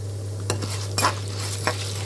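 Urad dal frying in a hot pan with a steady low sizzle, broken by three short scraping stirs of a spoon across the pan. No voices.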